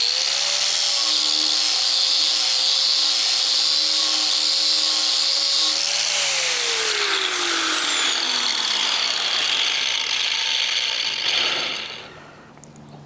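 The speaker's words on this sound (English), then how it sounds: "I would use a 40 disc, a 40 grit disc, and I would just start just grinding." An angle grinder fitted with a 40 grit disc grinds down stainless steel weld beads, a loud, steady high whine that drops in pitch under load as it spins down, then fades out near the end.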